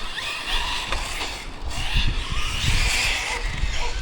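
Hobao TT2.0 RC car racing on a track, a continuous rough roar of motor and tyres with scuffing skid noise as it accelerates and turns, loud and close throughout.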